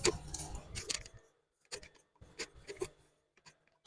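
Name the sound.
scissors cutting fabric for palazzo pants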